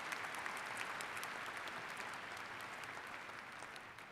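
A commencement audience applauds steadily at a 2025 summer/fall graduation ceremony, a dense, even wash of many hands clapping that stays fairly distant and soft for the whole stretch, easing slightly toward the end.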